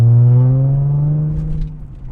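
Cabin sound of a Jaguar F-Pace S with its muffler deleted, a loud droning exhaust tone that holds steady and then slowly fades as the revs drop, heard alone with no talk.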